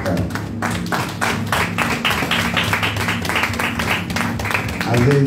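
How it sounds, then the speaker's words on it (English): Congregation clapping hands in rhythm during a church worship service, steady repeated claps over sustained music with singing voices. "We've got a hand clap."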